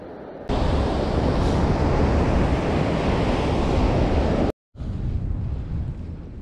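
Ocean surf at Venice Beach roars as a loud, continuous wash of waves with wind buffeting the microphone, briefly dropping out and then returning.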